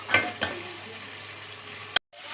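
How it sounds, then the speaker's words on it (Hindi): Chicken sizzles in a pan with fried onions, a steady hissing fry with a couple of stirring scrapes near the start and a sharp knock before a brief cut to silence, no voices. "अब हम इसमें चिकन डाल रहे हैं।"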